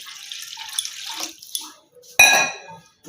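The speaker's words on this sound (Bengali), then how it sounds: "এবার আমি এই মগজটাকে ভালো করে জল দিয়ে ধুয়ে নিচ্ছি।" A goat brain is rinsed under running water in a Bengali home kitchen: soft handling and trickling sounds, then a loud, steady gush of tap water starting partway through and continuing to the end.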